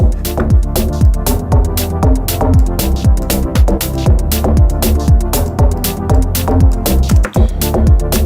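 Bright synth plucks repeat in a steady rhythmic pattern, each note trailing into a wide, washy reverb tail that fills the space between them.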